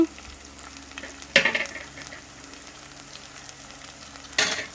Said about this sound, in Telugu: అల్లం వెల్లుల్లి పేస్ట్ కూడా మనకు పచ్చివాసన పోయేదాకా వేపుకుందామండి